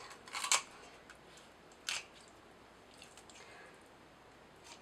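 Kitchen shears snip through a chicken's backbone in two short crunching cuts, a quick double clip followed a second later by another sharp snip, close and otherwise quiet.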